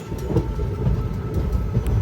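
Nagarsol Superfast Express (12787) rolling out of Palakollu station, a steady low rumble of wheels on rails with faint rhythmic clatter, close and continuous with no talk.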